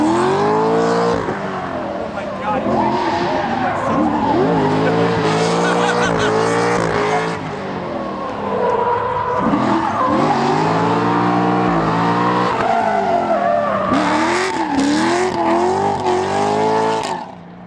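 A Chevrolet Corvette C6 Z06 drifting on a track, engine revving hard and rising and falling in pitch while the tires squeal and skid almost continuously, loud and close, with brief voices underneath.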